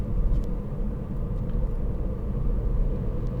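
Steady low engine and road rumble from a 2018 Ford Fiesta 1.0 EcoBoost ST-Line X cruising in 6th gear, a continuous, even drone heard from inside the car with no voices.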